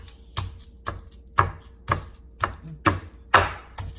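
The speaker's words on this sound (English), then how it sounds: "we're gonna have to go ahead and beat the meat" A large piece of meat being pounded with a tenderizer, heard as a steady series of about nine loud, evenly spaced thuds, close and alone.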